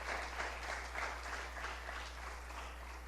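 A church congregation claps together in steady, continuous applause, a dense patter of many hands heard from a moderate distance over a constant low hum, with no voices.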